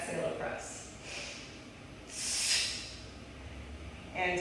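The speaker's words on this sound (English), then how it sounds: "exhale to press." A person breathes out forcefully while pressing dumbbells in a close-grip bench press, with a soft hissing exhale swelling and fading, plus faint breaths and a voice nearby.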